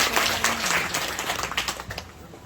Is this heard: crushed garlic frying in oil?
no